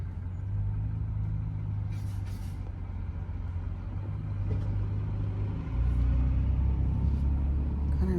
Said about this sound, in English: what is this guy doing? This garbage truck.